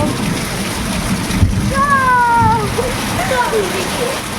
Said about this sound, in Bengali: আমরা বৃষ্টি দেখতে চলে এসেছি